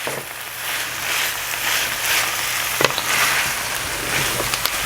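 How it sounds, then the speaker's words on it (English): Tomato paste is stirred into a frying pan, with a soft steady sizzle and a few faint scrapes and clicks over a low background hum. "now I'm going to add about a tablespoon of tomato paste. I'm just going to mix that in."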